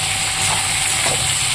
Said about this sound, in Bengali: এবার আমি ভালো করে নাড়াচাড়া করে দেবো